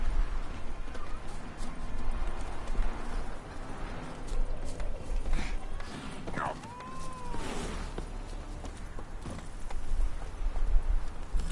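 A horse gallops in the game The Witcher 3: Wild Hunt, its hooves beating a steady rhythmic clip-clop through the whole stretch under ambient game sound, while a person talks now and then.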